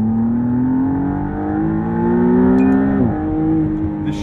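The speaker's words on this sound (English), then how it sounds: "With this sports exhaust, the note is more prominent than without it" McLaren Artura supercar engine with sports exhaust accelerating, a loud rising harmonic drone climbing steadily through a gear before a quick upshift drop near the end, heard from inside the cabin.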